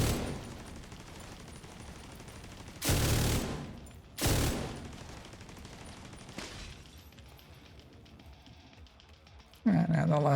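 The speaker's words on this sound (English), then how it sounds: "My LMG hits harder." A light machine gun fires in a shooter video game, with several loud, sharp bursts standing out over a quieter ongoing background of game noise.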